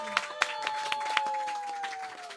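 Scattered claps and light applause from a small audience at a live music gig in a Hong Kong book and music shop, with a few sharp louder claps over steady crowd noise and a held musical tone.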